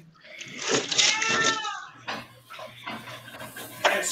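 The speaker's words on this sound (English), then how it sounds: "And scrape the pan a little bit," A metal utensil scrapes and clinks against a hot pan to lift browned seasonings, a few sharp scraping strokes mixed with light clatter, close by, with someone talking over it.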